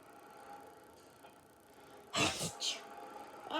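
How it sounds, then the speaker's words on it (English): A person sneezes twice in quick succession, triggered by hay in a farm setting, loud and close after a quiet stretch of low background hum. "Oh, the hay's making me sneeze a little bit."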